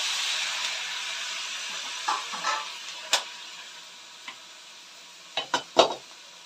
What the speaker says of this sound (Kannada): ಸ್ವಲ್ಪ ನೀವು ಟೊಮೊಟೊನ ಹಾಕ್ಕೊಬೇಕಾಗುತ್ತೆ